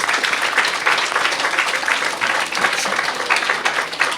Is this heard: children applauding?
yes